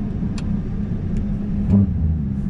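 A Ferrari 296 GTB hybrid supercar engine gives a steady, loud, low rumbling drone heard from close by, alone and without speech, with no distinct start or sharp rev.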